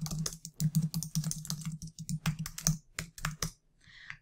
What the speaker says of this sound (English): all I'm doing is just typing and pressing enter to create a new list in here